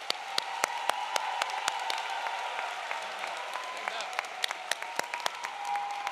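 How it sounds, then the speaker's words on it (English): An audience at a spring 2024 commencement ceremony applauds the graduates with steady, dense clapping that fills the hall, a few sharper individual claps standing out and faint voices mixed in underneath. "applause"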